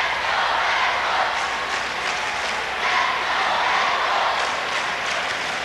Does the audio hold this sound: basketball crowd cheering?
yes